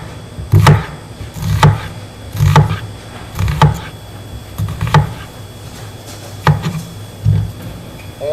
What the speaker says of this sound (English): So every 1/8 of an inch we're putting a slice, leaving the root intact